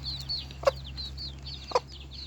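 A black hen in a coop makes soft, repeated clucks, with two short sharp calls and quieter chirps over a steady low hum.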